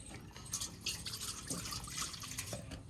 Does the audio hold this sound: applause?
no